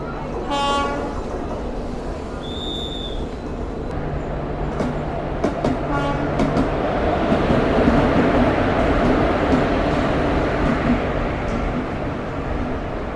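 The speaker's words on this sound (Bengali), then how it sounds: "জগন্নাথ এক্সপ্রেস প্রবেশ করছে সাঁতরাগাছি জাংশনের এক নম্বর প্ল্যাটফর্ম" The Jagannath Express rolls into platform one at Santragachi Junction with a short horn blast, a steady heavy rumble of wheels and carriages, and faint station chatter underneath.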